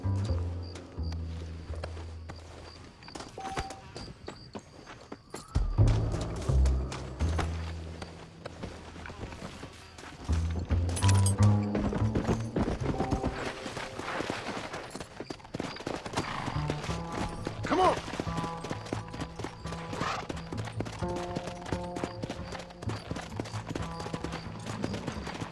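Rhythmic hoofbeats of a galloping horse in Red Dead Redemption run steadily over a game score, with whinnies and a few rumbling clatters along the way.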